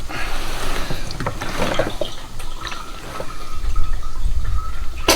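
Diesel fuel leaks from the fuel tank of a 1995 Dodge Ram 2500 and splashes steadily onto the ground below. The watery patter is nearby and continuous, with brief clanks and low rumbling over it and no speech.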